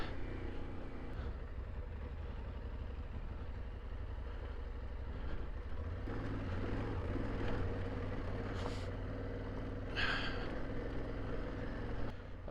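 A vehicle engine climbs a slick, hail-covered mountain track toward Bridger Peak in second gear, a steady loud drone and rumble throughout, with some brief higher scrapes over it.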